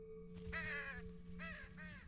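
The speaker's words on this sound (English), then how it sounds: "Again, the damn crows!" Crows cawing in the horror adventure game Saint Kotar, three harsh calls over a steady low hum, moderately near with short gaps between the caws.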